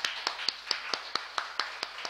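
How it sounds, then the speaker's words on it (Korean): Clapping in a church congregation comes as about ten crisp, evenly spaced claps in a quick steady rhythm, fairly faint and with no voices over them. "우리 푸미흥 교회 성도님들에게 격려의 박수를 보내주시면 좋겠어요"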